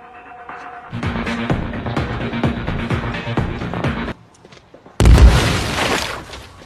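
A sudden heavy bomb blast in an action film erupts loudly after a brief lull, following a stretch of steady, busy sound.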